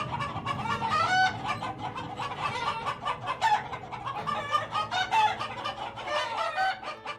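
Kadaknath roosters crow repeatedly amid constant clucking from a flock of chickens, a busy, close barnyard chorus with no talking.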